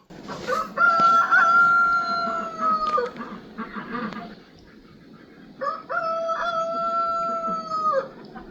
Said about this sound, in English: Is that my rooster?